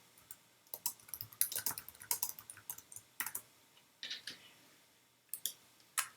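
Someone types a comment on a computer keyboard, irregular bursts of close, crisp key clicks with brief pauses between words, fairly quiet and with no talking.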